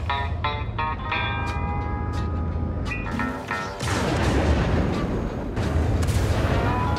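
Aegis Gladius light fighter cannons firing in Star Citizen: a series of sharp, ringing shots early on, then heavy booming blasts and rumbling impacts that continue loudly to the end.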